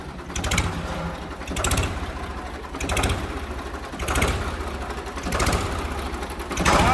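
A tractor engine runs close by with a steady mechanical rattle, a louder knocking surge coming back about every second.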